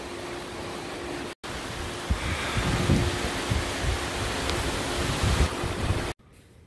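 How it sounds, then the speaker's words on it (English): Steady rain falling outdoors, a dense even hiss with scattered louder patters, fairly close and continuous with no voices. "It's been raining for maybe 5 minutes."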